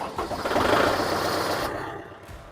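A tractor engine runs in neutral nearby, a rough, throbbing mechanical chug that swells and then eases off over a couple of seconds, with no talk.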